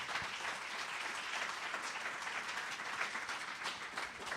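A church congregation breaks into steady, dense applause, many hands clapping together at a moderate distance, sustained evenly with no speech over it.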